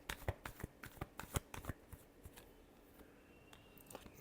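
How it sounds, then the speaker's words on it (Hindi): Tarot cards are shuffled by hand in a rapid run of crisp riffling snaps, close and quiet, thinning out toward the end with no talk. "last shuffle"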